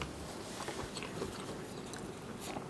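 Close, steady chewing and crunching of food loaded with jalapenos, cheddar cheese and crispy bacon, with dense, moist bites running continuously without talk.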